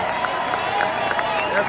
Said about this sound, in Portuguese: eu acho que ele merece 1 minuto, pelo menos, de aplausos nossos